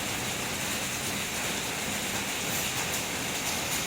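Rain pours down behind a house, a dense, steady hiss that holds at an even level throughout with no voices.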